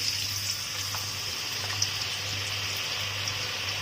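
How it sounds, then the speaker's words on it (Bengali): Potatoes fry in a pan with a steady, even sizzle and a few faint clicks, close and continuous, with no talking. "আমি আলুটা ভেজে নিই"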